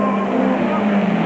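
The Castrol Toyota race car's engine holds a loud, steady drone as it slides downhill on a South African circuit during a 1997 Super Series race, heard close for a brief moment.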